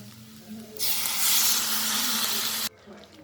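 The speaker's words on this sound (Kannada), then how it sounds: "ಹಾಗಾಗಿ 4 ಲೋಟ ನೀರು ಹಾಕ್ತೀನಿ ನಾನು." Four glasses of water poured into a hot pan for upma, a sharp steamy hiss rising suddenly and holding for about two seconds, then cutting off abruptly.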